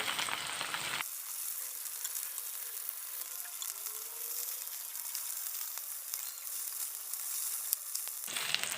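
Ivy gourd (kovakka) pieces fry in a hot pan with a steady, close, bright sizzle that holds evenly throughout, with no talk over it.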